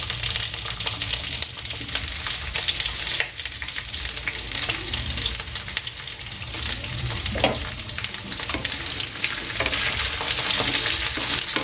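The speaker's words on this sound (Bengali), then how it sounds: "ভালোভাবে সর্ষের তেলে ভেজে নিচ্ছি।" Halved taruli (kudri, ivy gourd) fries in mustard oil with a steady, close sizzle and crackle, while a spatula stirs and scrapes through the pan continuously.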